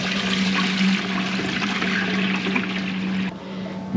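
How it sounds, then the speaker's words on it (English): Water rushes steadily into a cattle water trough on a farm, a loud close gushing and bubbling that drops off sharply near the end. "just brings the water up to the top and then it runs back down"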